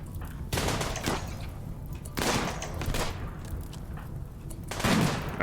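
Bursts of gunfire from a RimWorld battle arrive in three separate volleys a couple of seconds apart, each a crackling cluster of shots that sounds moderately distant, with no talking.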